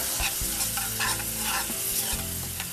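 A tomato-based sauce with white wine is stirred in a hot pan, with steady close sizzling and the scrape of a utensil moving through the liquid, no voices.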